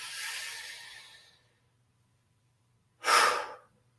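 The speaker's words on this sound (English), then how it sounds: "Okay, breathing in." A person takes a long, deep breath in, followed after a pause by a short, sharp breath, both close and alone in a quiet room.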